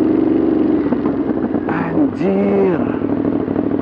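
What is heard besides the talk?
Ducati Monster 2022 motorcycle exhaust revving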